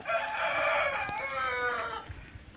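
A rooster crows once in a long, strained call held for about two seconds, loud and close, ending with a few scuffling thumps after the call.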